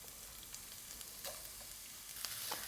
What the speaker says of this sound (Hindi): इसमें ये जो गाजरें ये हम फ्राई कर लेंगे।